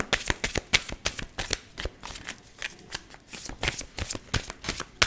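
Cartomancy cards being shuffled by hand, a rapid series of crisp riffling snaps and soft slaps in an irregular rhythm, close and clear with no talk over them.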